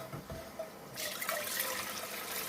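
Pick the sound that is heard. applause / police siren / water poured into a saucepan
water poured into a saucepan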